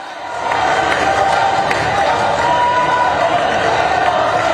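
A large crowd at a tribal mass gathering with Prime Minister Modi claps and cheers in welcome, a dense, sustained roar of applause and voices that holds steady throughout.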